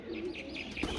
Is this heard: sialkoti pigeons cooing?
yes